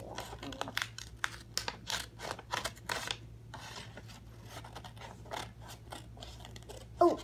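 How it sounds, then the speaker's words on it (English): Repeated snipping of scissors cutting paper, a steady series of short crisp cuts close by, with faint crinkling and low background hum. "now we need the scissors"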